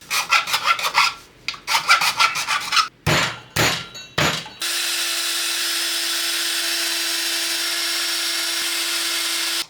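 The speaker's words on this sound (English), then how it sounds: "I realized I had to do a little filing on the alignment pins" Metal file rasping on the plastic alignment pins of an Orange Crush amplifier cabinet, quick rhythmic strokes in short bursts, then a steady high whirring like a small drill running alone.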